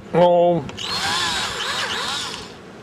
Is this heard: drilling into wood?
yes